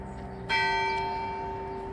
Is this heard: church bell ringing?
yes